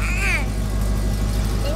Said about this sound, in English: Show you guys the exhaust that was done on it